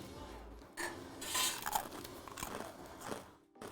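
A crouton bitten and crunched in the mouth, with sharp crackling bursts spread over a few seconds, close to the listener and fairly quiet, no talking.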